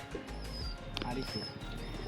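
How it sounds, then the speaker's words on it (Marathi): Soft pigeon cooing and faint bird chirps over a low background hum, quiet and close, with some faint voice sounds in the mix. "आपण बघू शकतो खूप सारे कबूतर आपल्या मित्राकडे आहेत"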